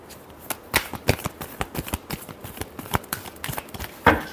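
Tarot cards being shuffled close up: a quick series of crisp riffling flicks and soft slaps, ending in a louder snap as the deck comes together, with no talking.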